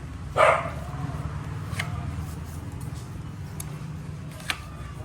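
A single loud dog bark near the start, followed by a few faint, distant yelps over steady low background noise, while Filipino players carry on a tongits card-game livestream.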